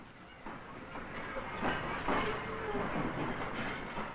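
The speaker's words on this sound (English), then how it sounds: "As they depart on a 2-day train ride to the city of Chengdu" Passenger train departing on a long two-day journey to Chengdu in China, a steady rumbling rail roll with hissing and clattering carriage noise, occasional squeals and brake tones, continuous and moderately loud with no talk.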